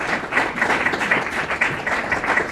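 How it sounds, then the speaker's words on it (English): Audience applause at a WZCC conference session, a steady patter of many hands clapping in a hall, moderately loud and unbroken. "I see a lot of claps only from women"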